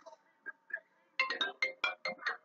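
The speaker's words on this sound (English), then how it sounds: "Oh, phone call." A phone ringtone plays a repeating series of short, bright electronic tones indoors, starting softly and then sounding louder and faster; no one speaks during it.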